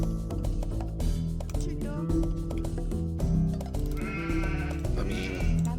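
Sheep bleat repeatedly inside an Age of Empires 2 skirmish, short nasal calls layered over a busy, continuous game soundtrack with music and other effects.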